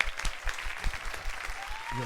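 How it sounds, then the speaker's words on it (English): Light hand clapping from a few people on a podcast set at the start of an episode, sparse irregular claps heard close over ongoing talk. "You gotta clap, Dave. You gotta clap."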